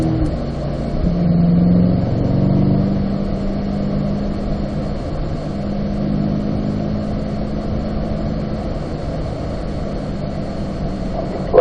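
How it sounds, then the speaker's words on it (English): Car accelerating up to fourth gear on the Spring Mountain track, a loud, steady engine roar and road rumble heard from inside the cabin, rising briefly then holding level. "And then we accelerate up to 4th gear."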